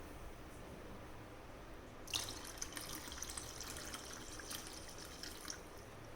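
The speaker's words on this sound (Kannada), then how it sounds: "ಈಗ 2 ಲೋಟ ನೀರನ್ನು ಹಾಕ್ತಾ ಇದ್ದೀನಿ" Water from a glass splashes into MTR rava dosa mix, a faint, quiet background suddenly giving way to a steady trickling, bubbling pour that continues to the end.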